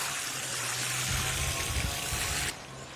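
An AUTOPkio portable camping shower sprays water in a steady, close hiss with a low pump hum underneath, then the spray cuts off abruptly near the end, leaving a quieter trickle.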